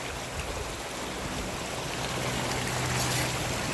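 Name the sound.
creek water flowing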